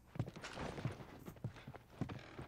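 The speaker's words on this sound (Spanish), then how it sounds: "Vamos con los caballos." Horse hooves clip-clopping in The Last of Us on PS3, a steady series of hoof thuds at an easy walking pace, close by and moderately loud over soft game ambience.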